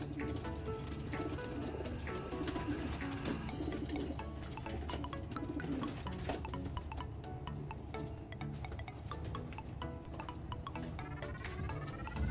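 Pigeons coo softly and repeatedly among other bird calls and light clinking, a busy flock heard at close range.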